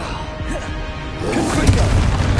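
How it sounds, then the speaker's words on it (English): A Flipendo spell strikes in Hogwarts Legacy on hard difficulty, a whooshing cast followed by a heavy, booming impact that swells and rumbles through the second half of the clip, loud and close. "Flipendo!"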